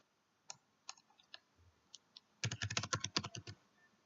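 Clicks at a computer while working in Photoshop: a few isolated, sparse clicks spaced apart, then a quick cluster of close, crisp keyboard-like taps near the end, in an otherwise quiet room.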